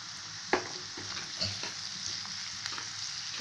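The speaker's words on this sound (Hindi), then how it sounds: "इस तरह से हमें मीडियम फ्लेम पर ही इसे थोड़ा सा फ्राई कर लेना है" Onion, ginger and green chili fry in a pan over a medium flame, a soft steady sizzle broken by occasional light clinks and scrapes of stirring, close and quiet with no talking.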